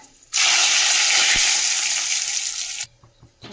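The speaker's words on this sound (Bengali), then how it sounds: "আর এই যে গরম মশলা ফোড়ন দিয়ে দিচ্ছি, দিয়ে দেবো দুটো তেজপাতা।" Whole garam masala and two bay leaves dropped into hot oil burst into a loud, bright sizzle that holds for about two and a half seconds, then cuts off abruptly into quiet.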